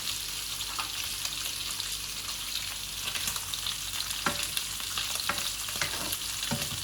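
Pork belly renders and fries with ginger in a pan, giving a continuous soft sizzle broken by occasional stirring scrapes and small crackles.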